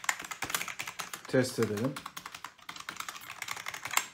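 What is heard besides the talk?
typing on a non-mechanical Q-layout A101 Piranha gaming keyboard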